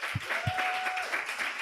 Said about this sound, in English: Let's give another round of applause for Eric.